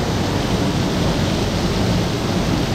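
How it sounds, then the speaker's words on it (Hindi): A waterfall pouring down over rocks among hills, a loud, steady broadband rush of falling water heard up close with no pauses or voices. "ऊपर से एक झरना गिर रहा है"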